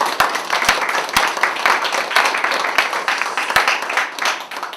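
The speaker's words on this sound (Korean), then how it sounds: "우리 하나님께 영광의 박수를." A church congregation claps together, a dense, close round of hand claps with a few sharp individual claps standing out, holding steady throughout and tapering slightly at the end.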